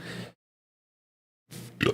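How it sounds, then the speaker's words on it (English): A man burps twice at close range, a short guttural eructation, then silence, then a second throaty burp. "sorry I had a burp there"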